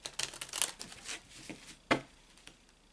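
Soft papery rustles and quick riffling flutters come from tarot cards being shuffled up close, with one sharper crisp snap partway through.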